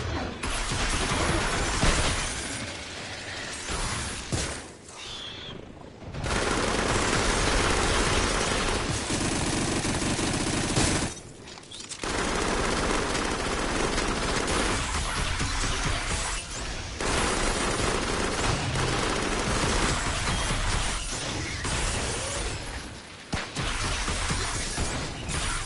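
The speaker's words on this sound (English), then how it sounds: "Shoot these flying little gooey stuff." Gunfire in the video game Farpoint, with loud, dense sustained bursts of rapid shooting mixed with crashing and mechanical noise, broken by a few short pauses, without any talk.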